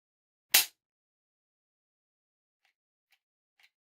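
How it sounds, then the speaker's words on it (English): An empty Taurus TH9C pistol with a broken trigger gives one sharp, loud metallic click as the trigger is dry-fired, followed by a few faint small clicks of the mechanism. "So I'm gonna pull the trigger."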